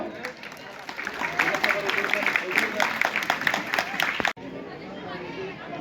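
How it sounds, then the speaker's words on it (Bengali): An audience claps with scattered, uneven applause at a school farewell ceremony in a high-school hall, mixed with crowd chatter, before the sound cuts abruptly to quieter background noise. "সবাই হাততালি দাও।"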